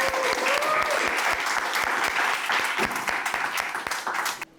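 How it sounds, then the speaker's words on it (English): Audience applause at a book launch for a new author's memoir, a steady dense clapping across the whole stretch that fades away at the very end. "Round of applause for our new author, please."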